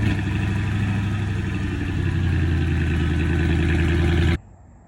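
The V8 engine of a Mercedes-Benz CLS550 revs hard through its exhaust, a loud, dense, continuous rumble held for several seconds before cutting off abruptly to a low idle-like hush.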